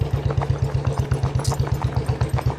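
A tractor engine chugs loudly and steadily close by, with a fast, even pulsing beat that continues throughout.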